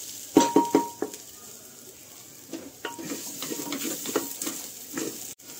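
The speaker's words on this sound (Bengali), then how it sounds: "তেজপাতা দিয়ে ডালটা আমি নাড়াচাড়া করতে থাকলাম" Lentils with bay leaves being stirred in a frying pot, a few sharp scraping stir strokes early on, then softer intermittent scraping over a low steady sizzle, close and moderately quiet.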